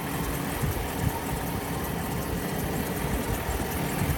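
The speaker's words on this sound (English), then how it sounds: "There is a grinding noise somewhere in the drivetrain." Grinding from the drivetrain of a Jeep Commander 4x4 Limited with a Hemi engine, heard as a continuous loud, rough droning rumble with vibration, steady throughout and close, with no speech.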